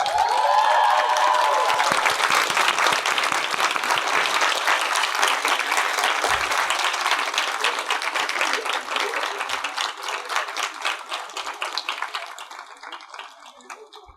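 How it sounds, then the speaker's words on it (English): Loud, sustained audience applause fills a 2019 graduation convocation ceremony, dense clapping from a large crowd that slowly thins and fades toward the end. "give a round of applause to the parents, families, teachers, and friends who have made getting here possible"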